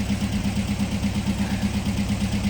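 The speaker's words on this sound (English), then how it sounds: "that constant purr of a Volkswagen motor" Close and steady, a Volkswagen motor idles with a rhythmic low pulsing thrum, a constant even purr with no voices over it.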